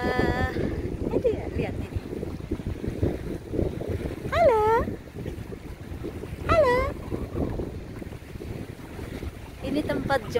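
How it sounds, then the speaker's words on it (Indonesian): Steady gusty wind roars across the microphone outdoors at Barwon Heads beach, with seabird calls squealing twice over the rushing noise. "Di sini angin kencang lagi."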